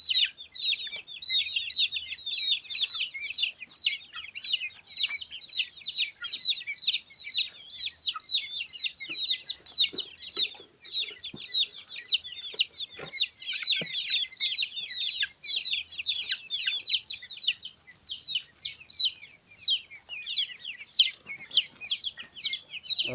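A crowd of young chicks cheeps continuously and shrilly close by, a steady overlapping chorus of high peeps at a homemade recycled automatic feeder, with a few faint knocks underneath.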